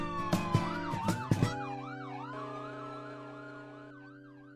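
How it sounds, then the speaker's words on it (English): Police sirens wail and yelp loudly, joined by a few sharp thumps early on, then sweep up and down and gradually fade as they move away. "I hear the police sirens"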